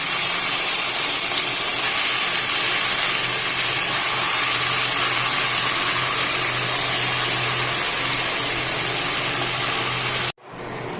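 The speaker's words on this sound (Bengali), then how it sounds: "তেল গরম হয়ে গেছে, এবার মাছটা দিয়ে দিচ্ছি।" Fish dropped into hot oil for morola fish jhal, a loud, steady, broadband sizzle and hiss that holds nearly unchanged for about ten seconds and then cuts off abruptly.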